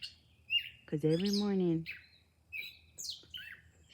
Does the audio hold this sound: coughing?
no